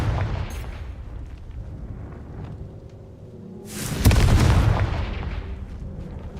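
A Confringo spell explosion in the Hogwarts Legacy video game erupts as a loud, sudden boom partway through, followed by a rumbling tail after quieter game noise.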